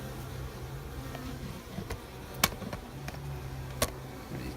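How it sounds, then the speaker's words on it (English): Honey bees buzzing steadily at close range during hive work, a continuous insect drone with a few sharp clicks and taps rising above it; no talking. "This is a female bee right here."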